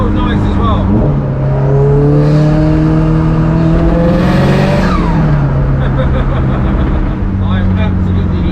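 A 556hp Subaru Impreza STI engine revs loud and close from inside the car while driving, its pitch climbing steadily through a long pull, easing off, then building again with a steady rumbling drone throughout.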